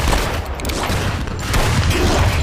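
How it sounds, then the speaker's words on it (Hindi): A dense, continuous barrage of gunfire, many shots overlapping in a loud rattling roar with no pauses. "गोलियों की बारिश हो रही थी"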